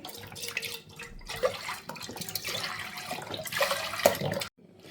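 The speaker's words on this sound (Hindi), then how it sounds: "1 लीटर के करीब हम इसमें दूध शामिल करेंगे, फुल फैट मिल्क है ये।" Full fat milk, about a litre, is poured into a cooking pot, giving a close, uneven liquid splashing and gurgling that stops abruptly near the end.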